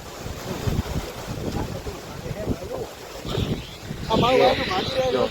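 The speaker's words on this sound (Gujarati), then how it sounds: "પવન મિત્રો જે ચાલુ છે" Strong cyclone wind roars steadily across a farm, a loud, gusty rush of air buffeting the microphone, with people talking over it throughout.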